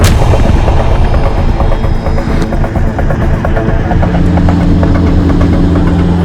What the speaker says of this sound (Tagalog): Nagpalipad sila ng 2 helicopter.